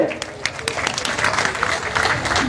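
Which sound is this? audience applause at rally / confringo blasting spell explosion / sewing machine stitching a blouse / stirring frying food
audience applause at rally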